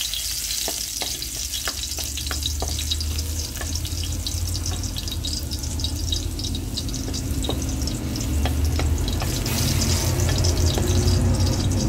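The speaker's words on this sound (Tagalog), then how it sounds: "Gisa muna natin itong mga ricado" Garlic, ginger and onion being sautéed in a home kitchen pan for chicken tinola, a steady, loud frying sizzle running throughout with occasional stirring clicks and scrapes, no talking.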